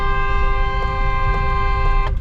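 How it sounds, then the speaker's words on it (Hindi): A car horn blares in one long, continuous honk at an intersection, loud and steady with a bright buzzing tone, over low engine rumble. "यहाँ पे लॉन्ग हॉर्न बजा देना है"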